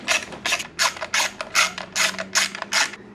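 A hand ratchet works bolts on the engine cover of a Honda CRF 250L motorcycle in a series of about nine quick, close clicking strokes with short pauses between them.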